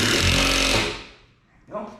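A power driver sends 3-inch grabber screws into wall studs while mounting a Jeep top hoist, with a loud whirring run that winds down and stops, then a short second burst.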